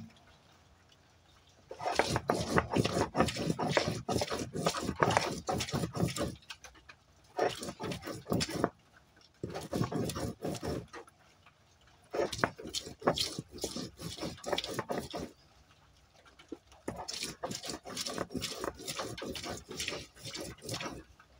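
Chilli paste with three green chillies being ground on a shil-bata grinding stone, heard as bursts of rough, rhythmic scraping strokes, close and moderately loud, broken by short pauses.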